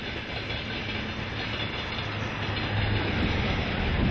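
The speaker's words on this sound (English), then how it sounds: "Trains and trucks take us into the Siberian sunset" A train rolls across Siberia in a steady, continuous rumble with a low droning hum and faint wheel clatter, building slightly louder toward the end with no voices.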